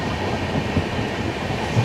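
Interior of the 19251 Somnath–Okha Express AC 3-tier coach while running, a steady, close rumble of carriage and wheels with faint irregular knocks; no speech.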